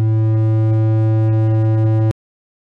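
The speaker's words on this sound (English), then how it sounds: "So now we're going to play the synthetic version," A synthetic distorted guitar note generated with Python code holds as a steady buzzing tone rich in even harmonics, with faint periodic clicks, then cuts off abruptly into silence.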